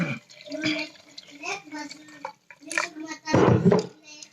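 Water is poured into a glass jar holding fruit kefir grains, a short, fairly loud splashing pour near the end that follows quieter stretches with a voice talking.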